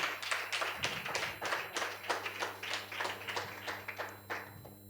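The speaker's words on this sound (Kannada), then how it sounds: "ಎಲ್ಲರೂ ಚಪ್ಪಾಳೆ ಮೂಲಕ ಮಕ್ಕಳನ್ನು ಪ್ರೋತ್ಸಾಹಿಸಬೇಕಾಗಿ ಕೇಳ್ಕೊಳ್ತಾನೆ" Audience applause at a church children's program on the final day of a Vacation Bible School, steady rhythmic hand clapping from many people filling the room, sustained and fairly loud without talk.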